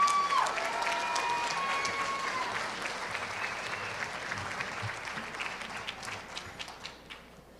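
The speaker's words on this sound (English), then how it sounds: "give a big, big round of applause" An audience at a children's scholarship ball breaks into full applause with a whistle at the start. The clapping rolls on steadily, then tapers into scattered individual claps.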